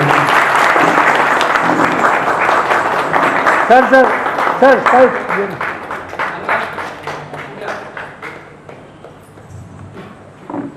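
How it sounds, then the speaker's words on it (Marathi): An audience applauds to welcome guests at a Shahu Maharaj birth anniversary gathering, loud dense clapping that gradually thins and fades, with a voice over a loudspeaker briefly audible amid it. "सगळ्यांनी जोरदार टाळ्या स्वागत करायचं आहे."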